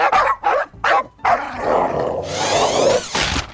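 Several family dogs bark in sharp, loud bursts close by at an RC car, followed by a longer excited yelp and whine, with rustling noise underneath.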